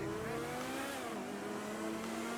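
Car engine revving in GTA V Online, a steady mid-pitched drone with a pitch that rises and then settles, filling the clip continuously at moderate loudness with no talk.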